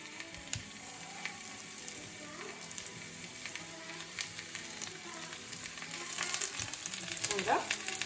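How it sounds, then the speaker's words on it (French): Small halved endives browning in a pan, a quiet steady sizzle with faint clicks and scraping, growing slightly louder near the end. "Je vais les faire revenir un petit peu."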